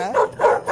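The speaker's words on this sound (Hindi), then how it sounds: "पर कुत्ता पैंथर को देखकर भौंकने लगा।" A cartoon dog barks at a panther, two loud yapping barks in quick succession, close and alone with no talk over them.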